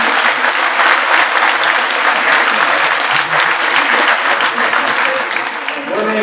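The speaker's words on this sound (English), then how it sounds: "let's give him a round of applause" Crowd at a school assembly applauds University of Wisconsin System president Ray Cross, sustained loud clapping from many hands that tapers off near the end.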